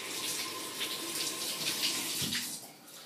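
Tap water runs steadily while a polishing applicator for a silver trumpet is made damp, a continuous close hiss and splash that eases off at the end.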